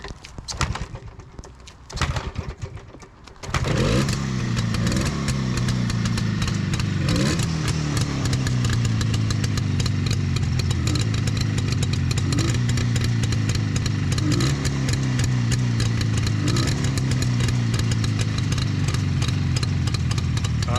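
A 1967 Jawa 350/360 motorcycle engine is started after a few faint attempts, then catches and runs steadily at a loud, close idle with small rises and dips in revs.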